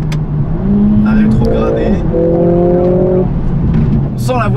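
Mercedes A45 AMG S engine revs in bursts as it downshifts on a winding road, loud and close, with someone speaking French over the engine note.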